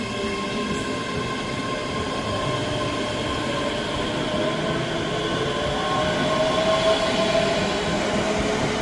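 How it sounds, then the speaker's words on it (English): A Scotrail passenger train on an Edinburgh service pulls into a platform at Edinburgh Haymarket, a continuous loud rumble of wheels on rails with a faint rising squeal near the end and no talk. "The train arriving at platform 1 is the 1207 service to Edinburgh."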